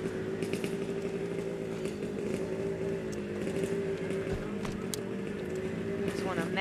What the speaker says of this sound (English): There's a racing motorcycle.